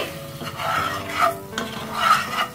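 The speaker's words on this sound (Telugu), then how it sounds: "ఎగ్స్ని ఒక రెండు నిమిషాల పాటు మనం ఈ విధంగా రొటేట్ చేసుకుంటూ ఫ్రై చేసుకోవాలి" Eggs for egg masala curry frying on low flame and being turned in a pan, with loud repeated scraping stirs over a steady sizzle, close up.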